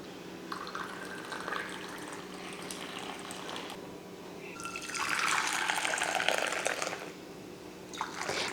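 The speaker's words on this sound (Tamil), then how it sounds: "இப்போ எல்லாத்தையும் எடுத்து இப்போ ஊற்றுவோம். டம்ளரில் ஊற்றுவோம்." Filter coffee decoction being poured into a tumbler in a home kitchen, a close liquid trickle and splash that swells louder midway and then tapers off, with no talking.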